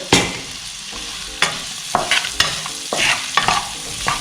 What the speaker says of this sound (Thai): ผัดให้ความเค็มของเกลือนะคะ จับกับมันฝรั่งต้มของเรา